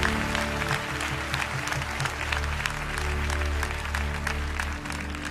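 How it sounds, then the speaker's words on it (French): A church congregation claps together in sustained applause, a dense wash of hand claps with a low hum beneath it, continuing steadily throughout without a break. "Clap to the Lord there."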